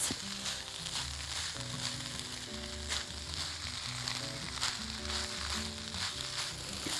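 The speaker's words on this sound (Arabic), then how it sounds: "برضو نقلب كويس." Steady sizzling and frying fill the pan as okra curry is cooked, with faint stirring scrapes and a few soft crackles, close and continuous without any talk.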